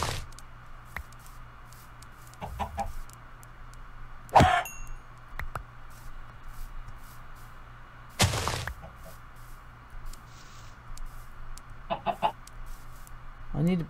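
Short bursts of Minecraft chicken clucking pop up a few times over a steady background hum, with scattered clinks and dings between them.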